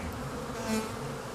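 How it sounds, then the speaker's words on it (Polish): Very small young honeybees from the spring brood hum softly and steadily around a beekeeper's hands, with a faint swell of buzzing midway. "Pszczoły obsiadają mnie na rękach, ale to są bardzo malutkie pszczoły, niewypracowane."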